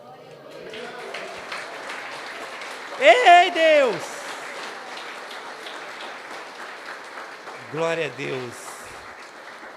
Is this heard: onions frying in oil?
no